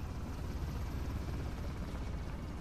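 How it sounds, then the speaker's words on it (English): A helicopter in the video game Uncharted: The Lost Legacy gives off a steady, loud low-pitched rotor drone that fills the moment without breaks or speech. "So this is the ideal place to climb up the helicopter."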